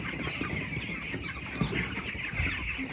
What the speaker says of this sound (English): These are SR broiler birds at 13 days, and we are giving grower pellets